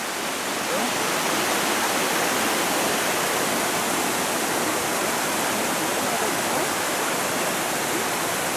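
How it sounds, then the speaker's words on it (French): Waterfall in Lozère heard from the top of the cascade, a loud, unbroken rushing roar of falling water, steady and close throughout with no pauses. "Nous sommes en haut de la cascade."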